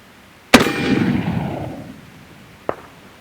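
A Colt black powder revolver loaded with a greased round ball fires one sharp, loud shot with a long rumbling decay, followed about two seconds later by a single fainter distant report or echo.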